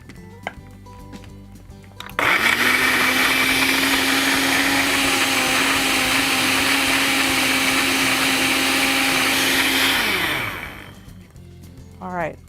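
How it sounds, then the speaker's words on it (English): A blender whirs loudly and steadily for about eight seconds, blending a carrot cake Herbalife Formula 1 shake with black walnut extract, then spins down; brief quieter handling sounds come before and after. "And now we're going to blend it up."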